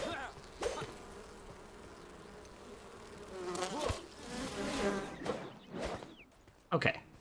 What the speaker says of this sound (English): We're being attacked by bees.